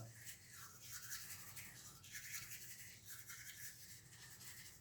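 Teeth being brushed with activated charcoal, a steady close-up scrubbing hiss that runs unbroken with no talking.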